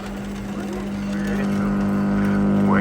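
A vintage Wireway wire recorder with a broken gear, failing to feed its wire properly, runs with a steady loud mechanical hum and whine that rises slightly over the few seconds.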